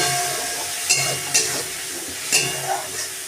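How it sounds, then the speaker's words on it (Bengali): Spice paste with a little water frying in a pan for a Bengali bori, potato and shol fish curry, giving a steady close sizzle and hiss with a few sharp stirring scrapes. "দিয়ে আবারও ভালো করে মশলাটা কষিয়ে নেব।"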